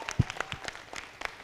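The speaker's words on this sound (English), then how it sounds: "A huge round of applause to Team Torrance, our music partners." Scattered, thin clapping from a small audience at a live event honoring the band, a few separate hand claps, faint and irregular rather than full applause.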